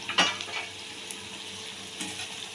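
Drumstick flower fritters fry in hot oil with a soft continuous sizzle, broken by a few light clinks and stirring scrapes from a utensil early on, and no voice.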